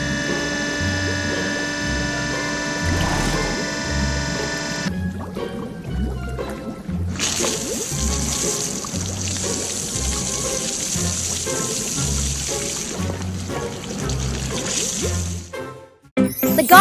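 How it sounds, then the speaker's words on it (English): Water sprays steadily over a garbage truck being washed inside a garage, a continuous hissing wash that runs the whole time, with a looping musical backing and a brief dropout near the end. "Inside a garage, a garbage truck is being washed. Water sprays, foam covers the whole vehicle."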